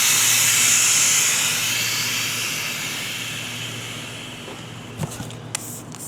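Pressure venting from a brewing tank at a brewery, a loud steady hiss that gradually weakens over several seconds, ending with a few faint clicks.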